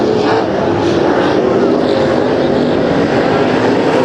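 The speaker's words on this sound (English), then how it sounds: "this is heat race number 1 for the IMCA modifieds" IMCA modified race cars roar through a heat race at Kings Speedway, a loud, dense and unbroken engine drone that fills the whole stretch, with a voice faintly mixed beneath it.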